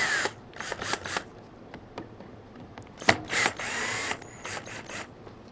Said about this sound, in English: Now I'm going to back my screws out.